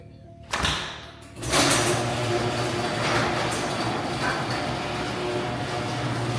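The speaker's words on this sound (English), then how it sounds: "Oh, Grammy keeps opening the garage door." A garage door rattles and rumbles open after a couple of knocks and a thump, giving a loud, sustained mechanical drone that carries on for several seconds.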